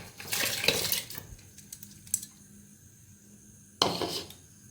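Washed rice and lentils tipped into warm water in a pressure cooker for chicken khichdi, heard close as a soft pouring splash and clatter, followed by a quieter clink and a second splashing pour, with no talking.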